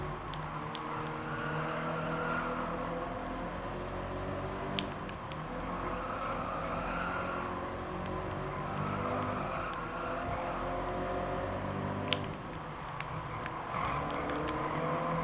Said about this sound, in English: Going up onto the 4th gear, now going towards the second turn.